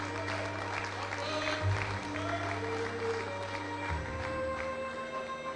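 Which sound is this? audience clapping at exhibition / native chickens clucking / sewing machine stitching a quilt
audience clapping at exhibition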